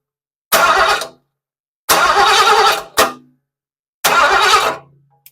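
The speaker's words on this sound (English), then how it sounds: "hold my finger on the starter button, let this spin, and watch this flex plate" Starter cranking a Ford 347 V8 in a 1976 Monarch, the flex plate spinning with each whirring burst; four loud cranking spells of about half a second to a second each, separated by silence.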